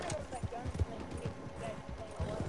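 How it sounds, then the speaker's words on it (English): Horse hooves in the video game Red Dead Redemption 2, a quick uneven clip-clop of a galloping horse drawing near, fairly faint, with a person talking over it. "Here comes his dumbass horse."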